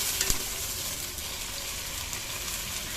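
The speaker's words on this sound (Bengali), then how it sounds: "পেঁয়াজ বাটা, রসুন বাটা, জিরে আদা বাটা দিয়ে দিলাম, দিয়ে কিছুটা জল দিয়ে নেড়ে চেড়ে নিচ্ছি।" A pan of onion, garlic, cumin and ginger paste with added water sizzles and bubbles steadily while being stirred, an even frying hiss with a few faint scrapes near the start.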